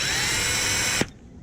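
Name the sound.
electric drill drilling a hole in a cane pole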